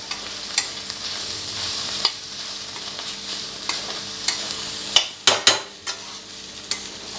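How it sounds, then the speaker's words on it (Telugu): Carrot and fresh coconut frying with chilli powder in an uncovered pan, a steady low sizzle broken by repeated sharp scrapes and taps of a stirring spoon, several clustered near the end. "కారం వేసి ఒక్క నిమిషం మూత లేకుండానే వేయించుకుందాం"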